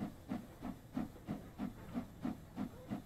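An LMS 8F steam locomotive on a rail tour climbs the Lickey Incline, its exhaust beating out a steady, rhythmic chuff of about three hissing blasts per second with no talking.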